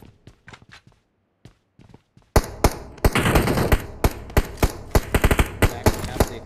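Gunfire in an online shooter video game scrim match as an enemy is shot: a few sparse, sharp shots, then sustained rapid bursts of close, loud automatic fire.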